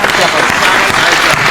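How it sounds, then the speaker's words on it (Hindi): Audience applause at a Hindi poetry recitation, a dense, steady wash of clapping filling the moment, loud and close, with crowd murmur mixed in. "एक बार आप लोगों की तालियां मैं चाहता हूं कि मुझे जागृत करने के लिए आए"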